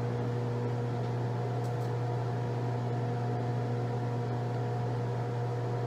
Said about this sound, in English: Hold that in place while we microwave and melt the cheese on top.